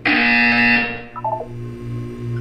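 A loud, harsh electronic buzzer in Portal 2 blares steadily for under a second, then cuts off, leaving a few soft beeps over a low hum.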